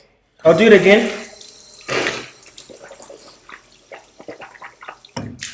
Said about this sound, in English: It's just to rinse your mouth.